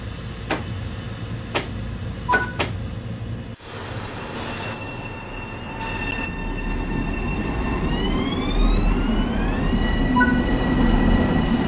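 A commuter train pulling away in the game Train Sim World 3: a low steady rumble builds as rising electric motor tones climb in pitch, with a few sharp clicks near the start and no talking.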